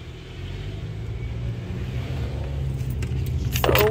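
A car drives along a highway on a long trip home, its engine and road rumble steady and close throughout, with brief sharper noise near the end.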